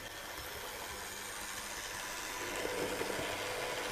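A small roof fan on an Accurascale model BR Class 31 locomotive runs with a steady, faint whirring hum, joined by a low motor drone that swells slightly toward the end.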